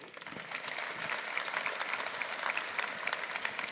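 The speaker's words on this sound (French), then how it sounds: "On peut vous applaudir." Applause from a conference audience, moderately loud, dense clapping that builds slightly and continues steadily throughout.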